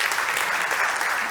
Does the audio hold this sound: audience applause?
yes